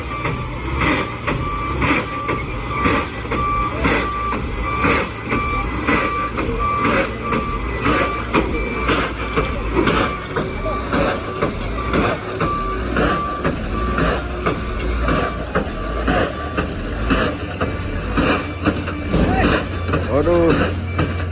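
An engine that has started smoking makes a snoring, rattling noise while the vehicle is pushed, a loud rhythmic rattle and knock repeating through the whole stretch with voices now and then over it.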